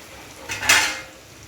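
Lemon rice tossed in a pan, a single brief scrape of a spoon against the metal rising over quiet background and fading within about a second.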